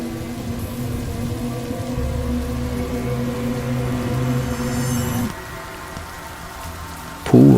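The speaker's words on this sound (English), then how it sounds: "the echoing sound of raindrops filled the air" Steady rain falls on hard surfaces around a deserted pool area, a dense continuous patter that holds for about five seconds, then thins to a lighter, more distant hiss before a brief louder burst at the very end.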